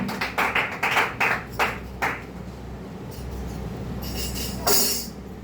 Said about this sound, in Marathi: छान अशी टाळी देवासाठी वाजव करू